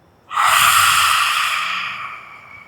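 A single long exhale during yoga breathing, strong at first and then fading slowly over about two seconds, close and breathy, in an outdoor nature setting.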